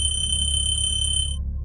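Alarm clock bell ringing loudly and continuously for about a second and a half, a steady shrill high-pitched tone that cuts off abruptly, with no voices.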